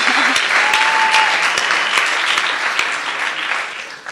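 An audience at a skateboarding panel discussion gives a round of applause, a loud dense clapping with a few sharp individual claps and a short cheer, tapering slightly toward the end.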